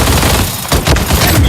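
Rapid automatic gunfire in the mobile shooter Blood Strike, loud and dense bursts filling the whole moment with no pauses.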